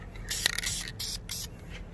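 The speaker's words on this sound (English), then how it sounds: "you can put that spray coats on there pretty good and thick if you want" Spray paint hissing from an aerosol can onto the front brake calipers of a 2004 Suzuki GSXR 1000, several close bursts of varying length with short pauses between them.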